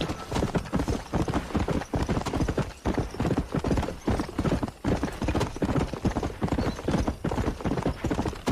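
Horse hooves clip-clopping while riding in the Red Dead Redemption video game, a steady galloping rhythm of loud, close hoofbeats with a few brief pauses in stride.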